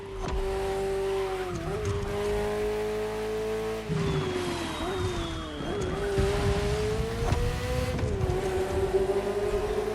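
A Ferrari F40 in The Crew Motorfest revs hard and steadily, its engine note climbing and dipping through gear changes, with brief tire squeals during the run and no voices.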